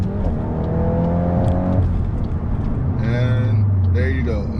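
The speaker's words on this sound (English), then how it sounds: "you can even hear it backfiring a little bit" A Volkswagen Golf R MK8 driven aggressively, engine revving up through the gears with a steady throaty drone, heard from inside the cabin, with a few faint crackles and someone talking over it.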